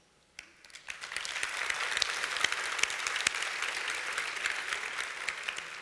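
Conference audience in Malta breaks into applause, starting with a few sharp claps and quickly building into steady, dense clapping from a large crowd that holds at full strength for several seconds.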